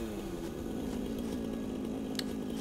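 A chainsaw in the video game Satisfactory runs in a steady, droning buzz as it cuts, holding an even pitch for a few seconds with no voices over it.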